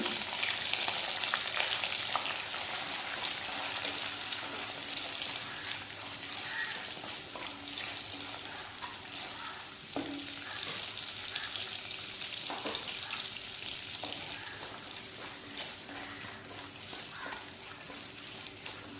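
Garlic cloves with dried red and green chillies fry in oil for a bitter gourd tamarind curry, producing a fairly quiet, even sizzle that runs unbroken for the whole stretch, with occasional small pops and no speech.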